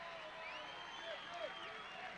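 A baseball crowd at a Newport Gulls versus North Adams SteepleCats game cheers after a wild throw to second: a steady, distant wash of crowd noise and applause that holds evenly throughout.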